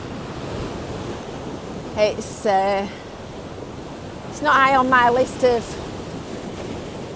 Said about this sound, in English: Splish splash on the crest of a wave.